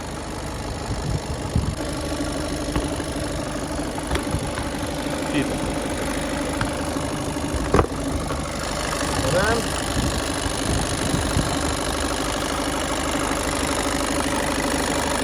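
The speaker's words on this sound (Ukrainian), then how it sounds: "Все супа, все добре, працює рівненько класно." A 2019 Skoda Octavia A7 with a 1.6 TDI 85 kW turbodiesel idles steadily, a smooth, even diesel rumble heard up close, with someone talking over it.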